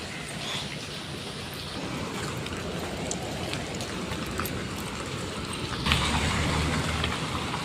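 Rain falls steadily near a gate, a continuous dense hiss of drops that gets slightly louder near the end.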